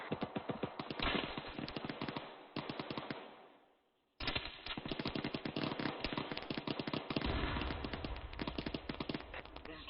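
Rocket fire and explosions in a military squad training game: dense, rapid bursts of gunfire-like blasts crackle almost nonstop, briefly fading into a lull midway before the barrage resumes just as loud.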